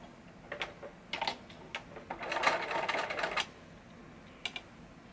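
A sewing machine stitches lace edging onto fabric in a few short rapid runs, then one longer buzzing burst of stitching, close-up and fairly quiet, with brief pauses between runs.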